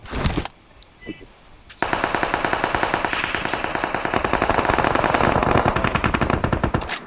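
Rapid automatic gunfire from the PUBG Mobile battle royale game, loud continuous bursts of rapid shots running for several seconds after a brief quieter gap, with a player voice talking over it.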